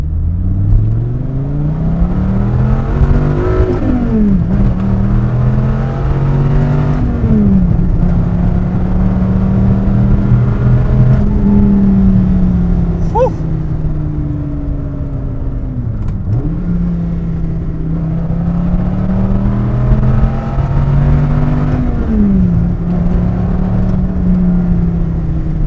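A 2008 Dodge Viper ACR with a naturally aspirated V10 and manual gearbox accelerates along a curvy road, loud and close, engine pitch climbing through repeated gear shifts with drops between, no talk.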